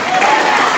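A dense, loud wash of applause from the audience at a DXN program gathering in Dostpur, steady and close throughout the short burst with no clear break.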